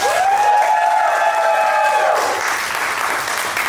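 Wedding guests in Osh clap and cheer together in a lively burst, with a sustained musical tone ringing out over the crowd before fading into continued clapping.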